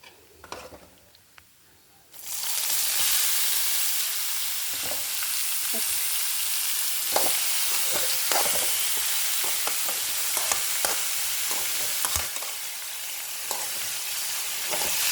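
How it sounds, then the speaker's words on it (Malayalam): After a quiet start, raw papaya tips into a pan of hot oil that has turned golden, bursting into a loud, sustained sizzle that continues with intermittent scrapes and knocks of stirring close by. "നല്ല ഗോൾഡൻ കളറായിട്ടുണ്ടെങ്കിൽ നമുക്ക് കപ്പക്ക ഇട്ട് കൊടുക്കാം"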